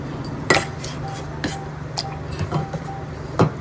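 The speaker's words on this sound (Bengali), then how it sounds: "এই ম্যাশারটা দিয়ে পরে ম্যাশ করছি" Boiled potatoes mashed with a masher in a metal pot, with sharp clinks and clacks at irregular intervals over a soft squishing background.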